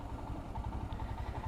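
Motorcycle engine rumbling behind the rider on a road in Goa, with a low, steady, throbbing idle-like drone that stays at an even level across the short stretch. No speech.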